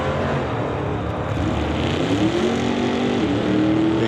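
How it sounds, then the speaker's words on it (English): A 1990 GMC Jimmy on a drag racing test run at a drag strip, its engine a steady loud roar with a rising tone near the end, no talking over it. "Krista Loudit from Maple Ridge in the 90 GMC Jimmy"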